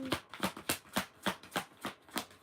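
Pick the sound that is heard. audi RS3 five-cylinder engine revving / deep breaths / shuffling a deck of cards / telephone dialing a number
shuffling a deck of cards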